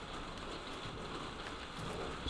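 Steady rain falls in the post-apocalyptic Fallout 76 game world, a constant hiss of drops on surfaces running throughout without a break, with no talk over it.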